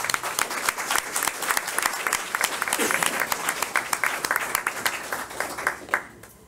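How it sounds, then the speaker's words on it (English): At a county board of education meeting, an audience applauds school staff with brisk, steady clapping that fades toward the end. "So let's give them all a big round of applause."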